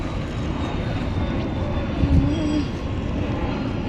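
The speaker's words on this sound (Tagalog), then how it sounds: "Yan pong eroplano." A steady, loud roar of an airplane passing overhead near a mall in Manila, Luzon, a broad continuous rumble with a brief squealing swell partway through.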